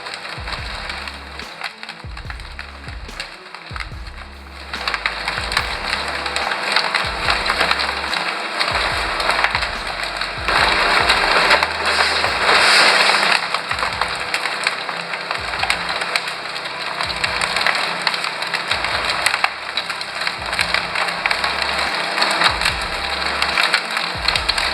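Industrial shredder crushing packaging to dust: a steady, loud grinding roar with dense splintering and crackling texture and a rhythmic low thumping underneath, continuous throughout with no talk.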